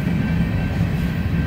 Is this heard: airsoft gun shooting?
no